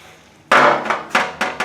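A dimple die is pressed into sheet metal for an inner fender, giving a sharp metallic strike followed by four lighter, evenly spaced knocks, close and clear.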